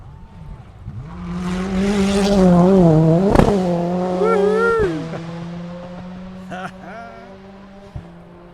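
A rally car tears past at speed on the Berwick special stage of the 2019 Otago Rally, its engine note rising loud and close, then dropping as it draws away, with a sharp crack mid-pass and a fading drone.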